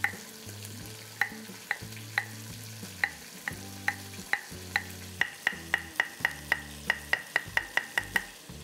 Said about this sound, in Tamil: இந்த நல்லெண்ணெயில் நல்லா ரோஸ்ட் ஆகட்டும்.